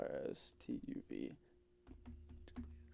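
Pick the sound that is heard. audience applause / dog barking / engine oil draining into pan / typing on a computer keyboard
typing on a computer keyboard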